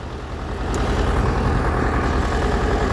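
A tractor engine idles during potato planting on a farm, a steady low rumble that stays loud and constant throughout with no talk.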